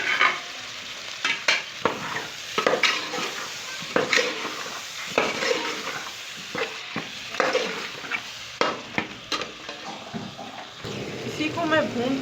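Chopped tomatoes and golden fried onions sizzle and fry in a pan for a kofta curry, with frequent scraping stirs of a spoon throughout, close and moderately loud with no talk.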